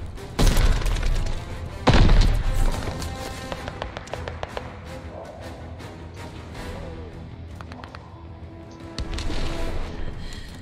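A Gammon grenade detonates in the Call of Duty: Vanguard game, two heavy booms up close followed by scattered gunfire taps and thuds of game action, with no talk.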